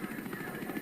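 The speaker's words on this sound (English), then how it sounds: "It is incredibly hard to shoot a sniper out of a helicopter." Helicopter in a Stranger Things scene, a steady chopping rotor drone heard briefly and fairly faint, with no talk over it.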